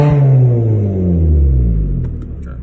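Hyundai Sonata with muffler and resonator deleted revs hard up close, a loud raspy exhaust roar with rising and falling engine pitch before easing off at the end.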